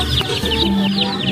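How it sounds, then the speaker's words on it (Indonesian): A chicken clucks close by in a quick run of short, throaty calls, loud and clear with no voices. "Wow, ada ayam teman-teman."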